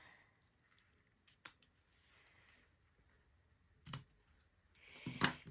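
Scissors trimming the ribbon edges on a handmade hibiscus craft card: three quiet, sharp snips spaced a second or two apart, with faint handling noise between them.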